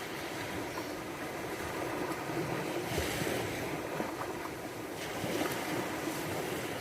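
Ocean waves rolling in with a continuous hiss of surf and swelling washes of water, some wind noise over the microphone, steady and fairly soft with no voices.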